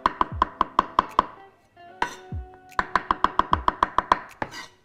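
Kitchen knife chopping button mushrooms on a board for a chicken pie, quick even runs of sharp close knocks, about six to eight per burst, broken by a short pause and a scraping sound.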